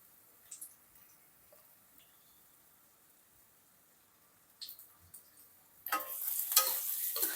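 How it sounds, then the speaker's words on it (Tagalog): Onions being sautéed in a pan for a vegetable monggo guisado: near silence with a few faint clicks, then a sudden loud, steady sizzle that fills the last second and a half. "Gigisa natin ang sibuyas."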